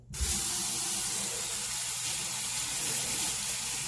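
Hot water runs steadily from a tap onto a reusable makeup remover cloth, a loud continuous close-up hiss and splash that starts abruptly and holds without any speech.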